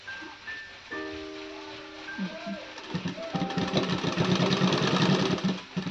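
Sewing machine stitching fabric while sewing a kaftan nightie, starting after soft talk with a steady motor whir and rapid needle rhythm that grows louder and continuous, with faint music underneath.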